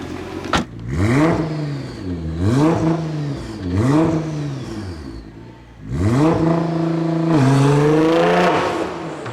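A track-spec 757 bhp Nissan R35 GTR Nismo revs repeatedly, its engine note rising and falling in several loud, close sweeps before a longer sustained climb, with no voices.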